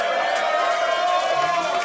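A live podcast audience at a sold-out Vancouver show cheers in a steady, dense crowd roar that holds at an even level for the whole stretch.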